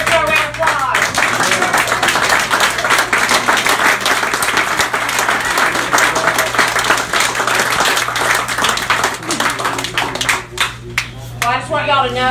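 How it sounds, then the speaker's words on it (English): Enthusiastic crowd applause and clapping for a sheriff at a campaign endorsement event, loud and continuous with cheers, fading near the end as a voice begins. "Let's give Sheriff a round of applause."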